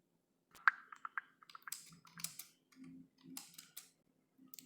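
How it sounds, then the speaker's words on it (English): Keys clatter in short irregular bursts as someone types on a computer keyboard, crisp close clicks separated by brief pauses, with no talking. "So the live agent is typing something"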